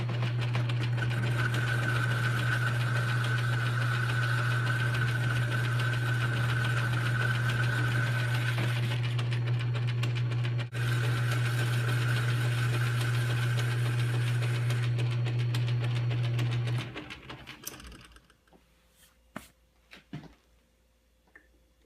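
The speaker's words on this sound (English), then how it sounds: "I'll just use my metal lathe and bore it to the right size." A metal lathe boring out a hole in a metal part, its motor running as a loud, steady drone with a high machining whine, then spinning down and stopping, followed by a few faint clicks and knocks.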